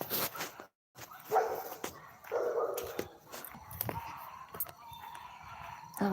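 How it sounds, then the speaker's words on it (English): Outdoor puppies barking and whimpering in a series of short, moderately close yips and barks spread across several seconds, with quiet background sounds between them. "Oh, there goes the puppies."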